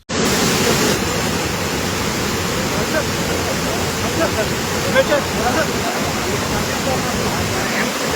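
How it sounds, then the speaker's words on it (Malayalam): The Chittur river rushes loudly and continuously after the shutters of the Moolathara regulator are opened, its dense roar of fast-flowing water filling the whole stretch without pause. "മൂലന്തറ റെഗുലേറ്ററിന്റെ ഷട്ടറുകൾ തുറന്നതോടെ ചിറ്റൂർ പുഴയിൽ ജലനിരപ്പ് ഉയരുകയായിരുന്നു"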